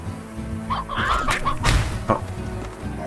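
Chickens in the ranch game Slime Rancher, several short clucks and squawks scattered close by, along with soft thumps.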